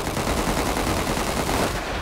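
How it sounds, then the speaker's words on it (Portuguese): Rapid automatic gunfire from a GTA 5 roleplay shootout fills the clip, a loud, dense burst of overlapping shots rattling continuously for about two seconds. "o EB tá trocando tiro, região da praça"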